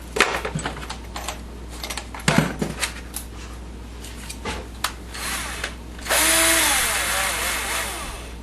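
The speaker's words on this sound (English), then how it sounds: "Got to change to my bit, pre-drill." A power drill pre-drills screw holes in a MAME arcade cabinet monitor shelf: short clicks and knocks as the bit is fitted, then a sustained whirring drill run near the end, close and fairly loud.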